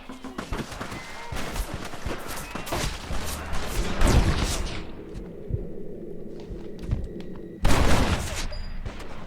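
Heavy gunfire rattles through a Red Dead Redemption firefight, dense volleys of shots and thuds running almost continuously, with a louder close burst near the end.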